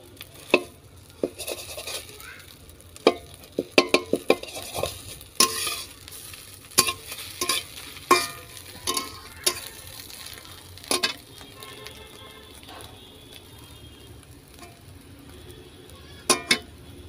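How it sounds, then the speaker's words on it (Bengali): Eggs fry in a pan with a faint, low sizzle beneath repeated sharp clinks and scrapes of a utensil against the metal, the knocks clustered early and growing sparser later. "তো ডিমগুলো আমি এখন সুন্দর করে এইভাবে ভেজে নেব।"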